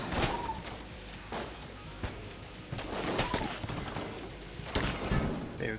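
Repeated shotgun blasts in the game Enter the Gungeon, loud bursts at irregular intervals over a busy layer of game effects, with no talking.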